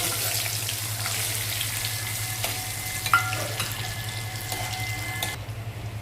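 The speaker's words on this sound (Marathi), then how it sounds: "आता मी हे काजू याच्यात तळून घ्यायचे." Cashews frying in hot oil in a pan, a steady close sizzle with a constant low hum underneath and a few light clinks and scrapes, no talking.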